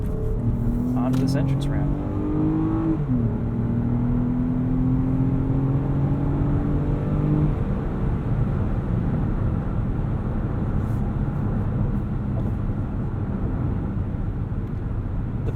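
A 2017 Lexus RX 350 F Sport in Sport Plus mode accelerates up an entrance ramp, its engine note climbing steadily and then settling into a constant road drone as someone talks over the start.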